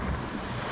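Sea waves at an island in Sulu, Philippines, a brief wash of surf mixed with wind buffeting the microphone, steady and fairly close with no voices.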